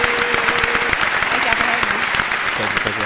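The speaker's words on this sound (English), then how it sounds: "Round of applause one time for that girl Diamond in the building" An indoor audience applauds a guest named Diamond at a live podcast taping, giving a dense, steady round of clapping with some faint voices mixed in.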